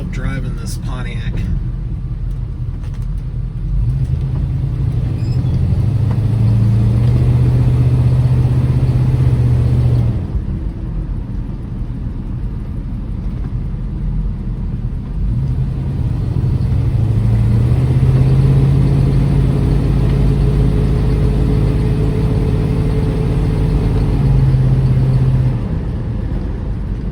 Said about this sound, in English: Definitely gonna love driving this Pontiac